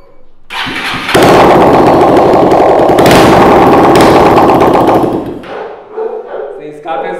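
A Honda CG Start 160 motorcycle engine with no exhaust roars loud and raw, revving hard in two long sustained bursts before dropping back to a rough, sputtering idle.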